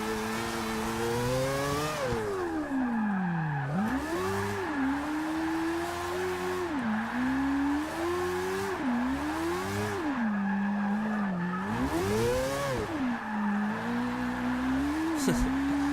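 Mazda Miata drift build in Forza 6 at North Georgia, engine revving up and down in repeated swells with tire squeal and skidding through a sustained drift, loud and close, no talk.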